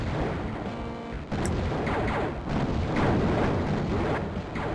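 Missiles launching and exploding in a video game, a dense, loud, continuous roar of overlapping booms and rumbling blasts with no pauses.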